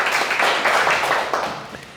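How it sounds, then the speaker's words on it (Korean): An audience breaks into a short burst of applause, dense clapping close by that eases off slightly toward the end, with no voices over it. "큰 박수 한번 부탁드립니다."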